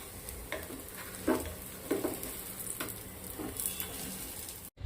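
Sabudana tikkis sizzle in ghee on a hot tawa, a steady moderate frying hiss with a few brief scraping or stirring accents, close up and without voices.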